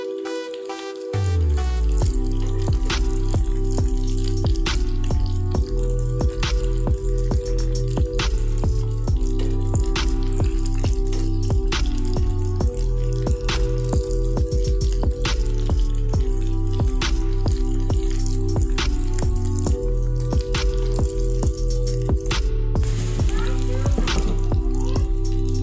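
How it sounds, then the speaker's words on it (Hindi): Potato tikki fry in a pan of oil with a dense, steady crackle and sizzle that runs continuously and loud throughout, dotted with sharp pops and spits. "साइड चेंज करने के बाद हमने इनको 2 मिनट के लिए अच्छे तरीके से फ्राई कर लेना है।"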